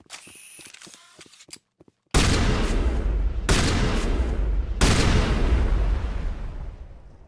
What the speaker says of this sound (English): Let's try the shotgun here.